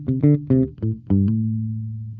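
Bass guitar notes plucked softly with the fingernails: a handful of short, rounded notes in quick succession, then a final note left to ring and slowly fade, close and fairly loud.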